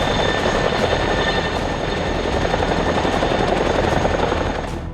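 CH-47 Chinook helicopters fly with a loud, continuous rotor roar and throbbing beat that stays close and steady throughout.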